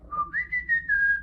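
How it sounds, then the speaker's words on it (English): A person whistles a short, clear rising-and-held tune, close and fairly quiet, alone with no talk. "I shouldn't have whistled at night."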